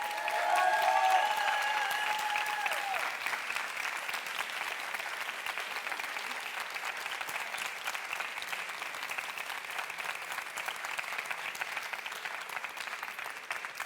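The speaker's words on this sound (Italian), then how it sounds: "ed un mega applauso che condividono con tutti gli artisti" An audience claps through the finale of a Neapolitan talent show, dense sustained applause that swells at the start and stays full and even, with a few voices and whistles rising briefly early on.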